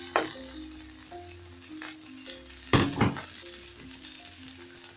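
Capsicum goes into a pan of frying garlic and gizzards, giving a soft steady sizzle with a few louder clatters and scrapes of stirring, close by and fairly quiet.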